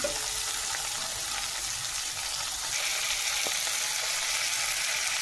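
Onions, curry leaves, ginger and tomatoes sauté in a pan with a steady, close, hissing sizzle and faint stirring sounds throughout.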